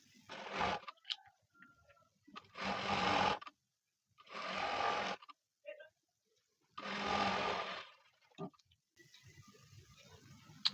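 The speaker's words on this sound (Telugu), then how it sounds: "అండ్ ఇప్పుడు ఈ క్లాత్లో ఉన్న ఈ హెచ్చు తగ్గులన్నీ కూడా కరెక్ట్గా ఫోల్డ్ అయ్యేలా స్టిచ్చింగ్ వేసుకోవాలి." A sewing machine stitching blouse cloth runs in four short bursts of rapid, even whirring clatter separated by quiet pauses, with faint handling noises between runs.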